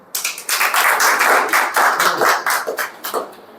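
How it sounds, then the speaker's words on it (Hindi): A physics teacher claps his hands in a classroom, a quick run of sharp, close claps in an uneven rhythm that goes on for a few seconds with no talk over it. "ताली बजा दूं?"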